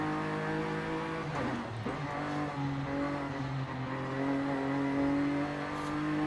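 Toyota Camry, front-wheel drive and built up in Forza Horizon 5, revs steadily with a continuous engine drone that rises and falls in pitch, loud and close throughout with no talking.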